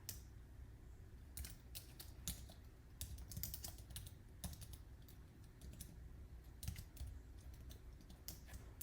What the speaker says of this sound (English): just go into the text box and just start typing